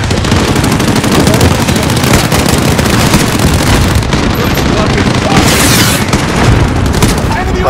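Air support fire mission explosions in the Call of Duty Modern Warfare 4 campaign pound away as dense, loud booms mixed with rapid gunfire, sustained and chaotic, with voices shouting over the din.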